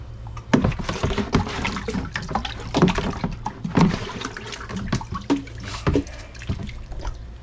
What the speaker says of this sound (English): I just top them off, guys, with rainwater.